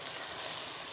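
Wine hisses and sizzles in a hot pan over onion and garlic while ossobuco is cooking. The bright, continuous frying noise is close and steady and lasts about a second.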